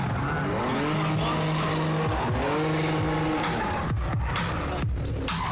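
A 600 V12 car at a gymkhana show screeches its tires in long, wavering squeals over a loud engine roar, with repeated skids and a constant crowd and outdoor din behind.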